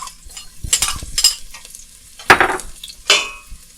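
Garlic hits a hot pan for a Chinese napa cabbage and tofu stew, giving a few loud bursts of sizzling with stirring scrapes between them, close and without talk.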